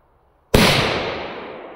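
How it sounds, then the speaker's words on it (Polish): A yellow Zom Bum Polenböller firecracker goes off with a single sharp, loud bang that starts abruptly from near silence, followed by a long ringing echo that slowly fades. "2 sztuki na luźno, petardek Polen Biller, pierwsza żółta."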